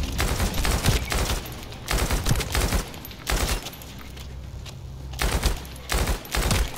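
Video game gunfire as generators are destroyed in a mission, repeated bursts of rapid automatic fire in short volleys separated by brief pauses, loud and close over a low rumbling background.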